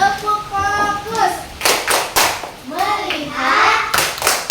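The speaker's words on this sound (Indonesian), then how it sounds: "Bagaimana kalau tepuk fokus?" Children in a classroom play the tepuk fokus clapping game, chanting in sung voices and breaking into several sharp bursts of group hand claps in a patterned rhythm.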